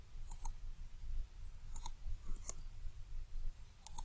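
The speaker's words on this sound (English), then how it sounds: "Now we can click save." Computer mouse clicks while saving code in STM32CubeIDE, a few small crisp double clicks spaced apart over a quiet room hum.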